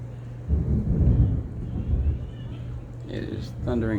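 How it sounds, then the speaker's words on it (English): Thunder outside, a low, muffled rolling rumble that swells and fades over a couple of seconds, heard from indoors against a steady hum, with brief higher tones near the end. "It is thundering out there"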